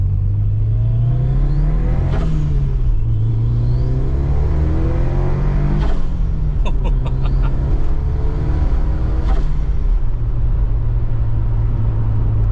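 A Ford Escort Cosworth engine revs up and shifts through several gears, pitch climbing and dropping with each change, loud and close with a steady low rumble.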